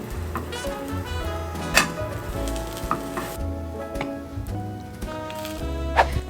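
Grilled cheese sandwich frying in a pan at home, a steady close sizzle with scattered clicks and clatter of utensils throughout, with no talking.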